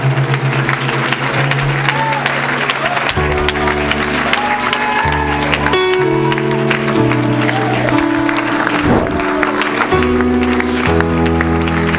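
A church congregation claps hands together in a sustained burst of applause, loud and close, layered over sustained keyboard or organ music throughout.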